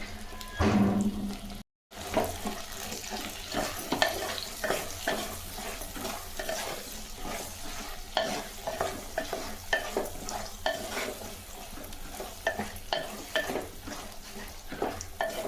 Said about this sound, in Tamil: நம்ம வதக்கத்துலேயே பாதியே கத்திரிக்காய் வெந்துருங்க